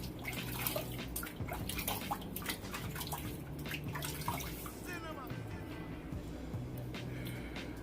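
Water splashes and drips as a head is wetted before shaving, a close, uneven patter of running and dripping water with some quiet voice in the background.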